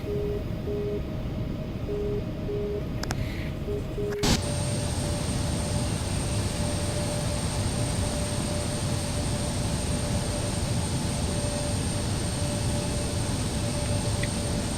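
Embraer E-175 jet taxiing slowly in X-Plane 12, a steady broadband engine roar with a thin high whine holding constant throughout, after a few brief cockpit beeps and a click.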